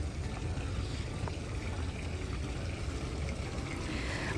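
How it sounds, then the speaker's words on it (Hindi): Flowing water in the lawn of the Serena Hotel in Islamabad, a continuous rushing splash like a fountain or water feature, steady and fairly close, with a low rumble underneath and no talking. "पानी की ये आवाज़ बहुत ही सूदिंग लगती है।"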